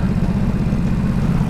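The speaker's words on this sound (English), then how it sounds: "For a standard exhaust, it's got a lovely noise to it" A Ducati Supersport 950 motorcycle with its standard exhaust runs steadily nearby, a low, throbbing engine note held at an even idle-like level throughout.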